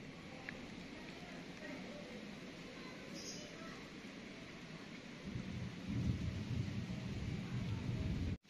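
Continuous rain hiss that grows heavier and louder toward the end, with a low rumbling wash underneath.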